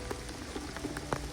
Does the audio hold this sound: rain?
yes